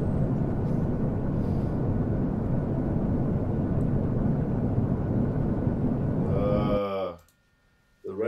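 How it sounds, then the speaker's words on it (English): A loud, steady roar of a plane fills most of the stretch within a music track, then cuts to near silence before a brief return. "Are we on a plane?"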